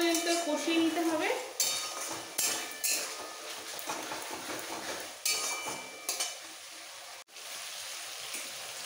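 Tomato and onion sautéing for Dhaba-style chicken tarka, a spoon clinking and scraping against the pot in irregular strokes over a low sizzle, near and moderately quiet.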